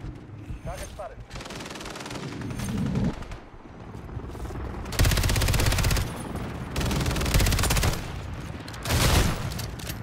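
Automatic rifle fire from a Warzone / MW3 multiplayer match, with loud sustained bursts crackling across the clip, the heaviest in three dense volleys in the second half, mixed with quieter game noise.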